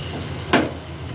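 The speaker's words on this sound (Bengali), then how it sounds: "আমি একবার নেড়ে দিয়ে গ্যাসের ফ্লেমটাকে অফ করে দিচ্ছি" A single quick scrape of a spoon through raw papaya curry in a pan on a gas stove, short and close, over a low steady sizzle.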